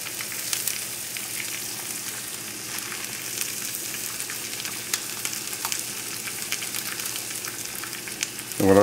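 Egg-coated gluten-free chicken Francaise searing in a hot pan, giving a steady, dense sizzle and crackle throughout, with a brief clunk at the very end.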